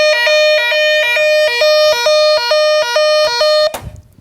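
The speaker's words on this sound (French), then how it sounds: "c'est du domaine de l'alarme incendie, c'est ce qu'on met dans les établissements recevant du public" A fire alarm siren in a public-building alarm installation sounds loud and close in a rapid two-tone alternating pattern for nearly four seconds, then cuts off abruptly, leaving a brief low thump and silence.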